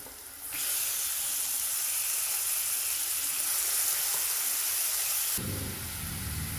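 Tomatoes hit a hot pan of vegetables for rava kichadi with a sudden loud sizzle that holds steady as a bright hiss, then eases off near the end.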